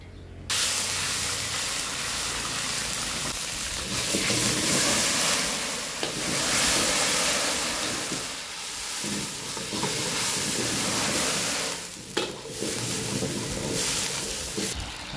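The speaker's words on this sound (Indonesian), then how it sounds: "Kita tumis sampai cili kering ni garing" Three dried chillies fry in hot oil, a steady loud sizzle and hiss that runs without a break, with a few stirring scrapes and no one talking.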